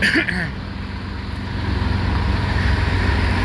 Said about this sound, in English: I know you can't hear any of this because all these trucks idling